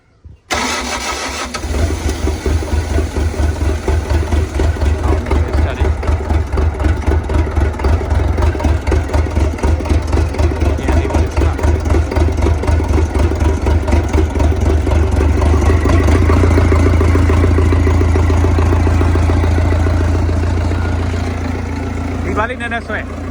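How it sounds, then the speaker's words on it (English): A CAT 307SSR mini excavator engine cranks briefly, then catches and settles into a loud, steady diesel run with a low rumble, continuing close by for over twenty seconds with little change. "we're trying to start the engine."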